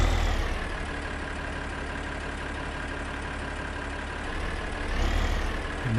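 A tractor engine idles steadily in the Farming Simulator 15 game on PS4, a loud constant low rumble that swells slightly near the end.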